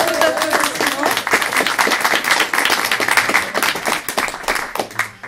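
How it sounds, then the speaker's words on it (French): An audience claps for a guest arriving at a conference on the history of DIC animation studios, dense lively applause throughout with voices talking and calling out over the clapping. "Beaucoup d'applaudissements."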